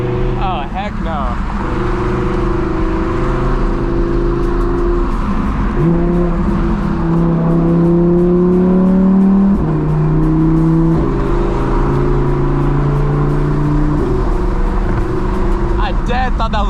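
Audi R8 driven at night, its engine revving up and down through shifts with loud exhaust pops and crackles, a steady near roar throughout while people talk over it.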